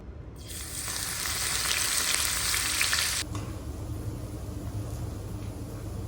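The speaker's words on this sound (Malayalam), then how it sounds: "ഫ്രൈ ചെയ്ത നട്ട്സും സവാള ഇല്ലാതെ എന്ത് ബിരിയാണി," Nuts and sliced onions fry for biryani in a loud, close hiss that cuts abruptly after about three seconds to a steadier, softer sizzle, with no talking.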